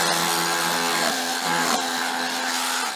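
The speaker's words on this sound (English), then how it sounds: "I'm using a combination of my SDS drill." A loud, continuous SDS hammer drill whine with a steady buzzing drone and a few brief surges, close by, as it breaks up stone in a garden fence post hole.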